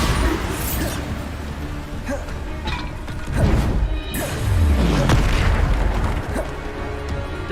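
Bombarda spell blasts in Hogwarts Legacy: repeated heavy booms and crashing impacts in quick succession, loud and close, with a deep descending rumble in the middle among dense combat noise.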